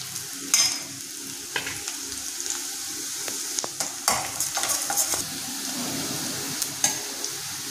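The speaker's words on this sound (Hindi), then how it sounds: "प्याज हमारी भून चुकी है जितना हमें चाहिए।" Chopped onions being stirred and roasted in a pan over a moderate gas flame, with a soft, steady sizzle and intermittent scraping clinks of a spoon against the pan, quiet and close, with no talking.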